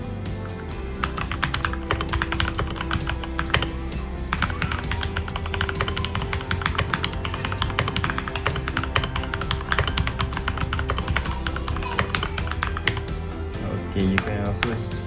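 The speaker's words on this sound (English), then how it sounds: "So basically this is yellow color switch, so it gives a tactile typing feeling." Typing on a Keychron K2 V2 wireless mechanical keyboard fitted with yellow tactile switches, a continuous run of close, crisp keystroke clicks and taps at an even pace, with a brief clack near the end.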